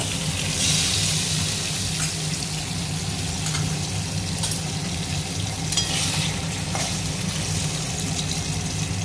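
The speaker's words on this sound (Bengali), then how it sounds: "পাবদা মাছগুলো ভেজে নিলাম।" Pabda fish fry in oil in a pan, a dense steady sizzle and crackle heard close up, with occasional spatter bursts and stirring knocks, no speech.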